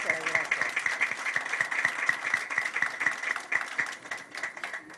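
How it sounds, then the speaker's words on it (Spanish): Audience at a formal event on political violence against women gives a warm round of applause, dense steady clapping from many hands, fairly distant, with voices murmuring underneath. "Recibámoslas, por favor, con un fuerte aplauso."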